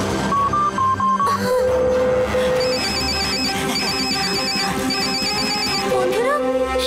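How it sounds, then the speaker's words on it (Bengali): A phone ringtone plays on and on with no one picking up, a repeating electronic melody over a busy musical background. "শিবা তো ফোন তুলছে না।"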